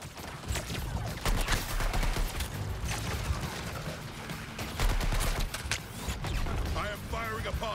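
Gunfire in the action game Suicide Squad: Kill the Justice League, with scattered bursts and impacts mixed into a busy combat soundscape with effects and voices throughout.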